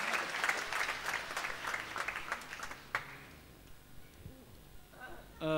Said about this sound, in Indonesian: Kita beri aplaus dulu untuk Mario ya